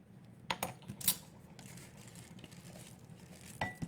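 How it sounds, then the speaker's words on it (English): Sticky apple oatmeal mixture emptied from a container into a bowl, a few soft wet plops and light clinks against the dish, close and quiet with pauses between them. "I'm going to empty it out into a bowl here"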